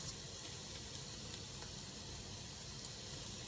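Pecans tipped into a hot pan of carrots sizzle softly and steadily, a faint continuous frying hiss with no talk.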